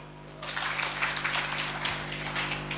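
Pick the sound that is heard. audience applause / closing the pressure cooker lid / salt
audience applause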